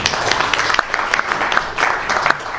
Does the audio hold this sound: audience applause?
yes